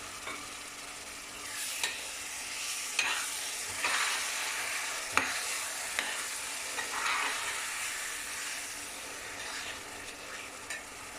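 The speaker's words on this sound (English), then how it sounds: "We need to give this a good stir up." Grated tomatoes for a fish curry stirred in a pot, a soft continuous scraping and wet shuffling with occasional light knocks of the spoon against the pot, close but quiet and with no talking.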